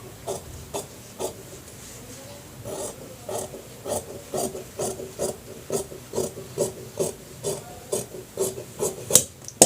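Scissors snip through cloth for a shirt collar in a steady series of short, crisp cuts, close by and getting slightly quicker toward the end.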